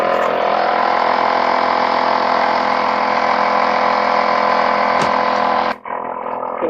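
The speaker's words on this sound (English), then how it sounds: "Waiting on the air compressor." An air compressor runs with a loud, steady droning hum in a garage during maintenance on a Subaru Baja. It cuts off abruptly near the end, leaving a quieter background hum.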